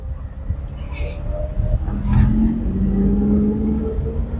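A car engine revs and gains pitch as it accelerates during a driving lesson on an uphill practice route, steady and fairly close, with no talk.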